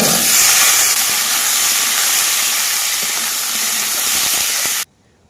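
Cut yam pieces hit hot oil in a kadai with browned onion and five-spice, giving a loud, dense, steady sizzle that stops abruptly near the end.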